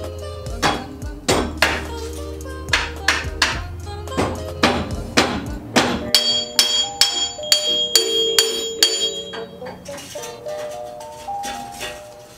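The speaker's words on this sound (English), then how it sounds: "I'm going to try it with this rubber mallet, so hopefully that works" A rubber mallet repeatedly strikes front axle parts on a Jeep Cherokee XJ to knock them loose: a steady series of loud, sharp metallic blows with ringing overtones, close and alone.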